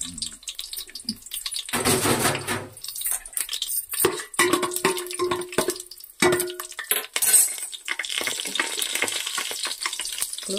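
Whole biryani spices tipped into about two spoons of hot oil in a pan for mushroom biryani, giving bursts of crackling sizzle mixed with clinks and scrapes of utensils, close and with no talk.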